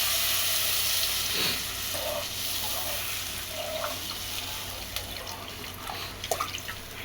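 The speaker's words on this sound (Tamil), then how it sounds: "இப்போ தேவையான அளவு தண்ணி ஊற்றிக்கலாம்." Water is poured into a hot pan with a little oil and Maggi masala, making a steady hiss and sizzle with a few drips and small splashes, close by and without talking.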